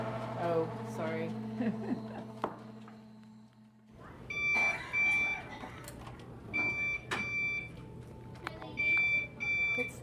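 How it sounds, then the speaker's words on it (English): Repeated high electronic beeps sound in short bursts over room noise and some background voices, moderately loud and close. "What's that beeping noise?"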